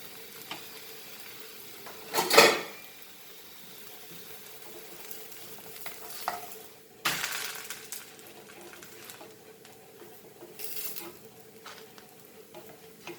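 A Goan coconut pancake fries in ghee with a steady, gentle sizzle, broken by a few louder scraping or handling bursts from the pan, with no voices.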